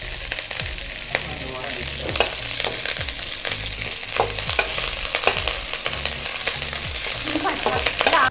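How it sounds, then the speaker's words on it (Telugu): Curry leaves crackle and pop steadily while frying on low flame for a spicy curry-leaf powder, with dense sizzling and sharp bursts throughout, close and fairly loud, with no talking. "బాగా చిట్టపట్టలాడేదాకా సిమ్ ఫ్లేమ్లో పెట్టుకొని వేయిద్దాం."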